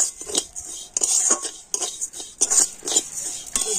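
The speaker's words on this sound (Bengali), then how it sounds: "এখন আমি চালটাও ঘিয়ের করে একটু হালকা করে ভেজে নেব" Gobindobhog rice being lightly fried and stirred in ghee, heard as a spoon repeatedly scraping and clinking against the pan in short uneven strokes, close and clear with no talking.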